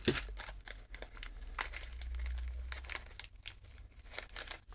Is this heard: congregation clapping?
no